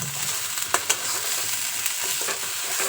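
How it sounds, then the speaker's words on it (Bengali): Kharkol leaf paste fried in a pan, giving a loud, steady close-up sizzle with a few sharp scraping stirs of a spatula scattered through. "দু থেকে তিন মিনিট খুব ভালো করে ভেজে নেব শাকটা"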